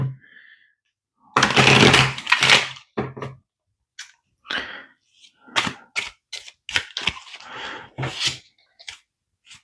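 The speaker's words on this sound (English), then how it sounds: "I'm gonna give these one more shuffle here." Tarot cards being shuffled by hand, a long dense burst of papery rustling followed by a run of short crisp card slaps and taps, close and fairly loud, with no talking.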